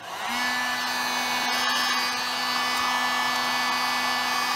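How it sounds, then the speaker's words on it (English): A heat gun blows hot air over freshly sprayed wrinkle paint on a motorcycle motor, switching on at the start and then holding a loud, steady whirring hiss with a fixed whine, close and uninterrupted. "Hit it with the heat gun again."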